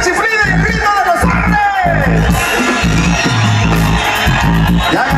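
A lively crowd of men at a live concert in Capacuaro, Michoacán, shouts and whoops loudly, with whistles rising over the noisy babble of voices.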